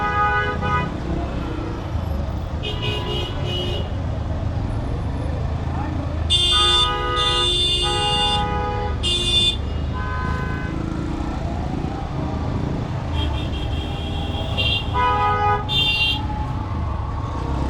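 A traffic jam heard from a 125cc motorcycle on a congested road: steady engine and traffic rumble with repeated car horn toots in short bursts, some near and loud, while someone talks throughout.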